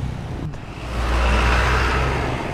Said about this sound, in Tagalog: Tuloy-tuloy yung daloy ng traffic.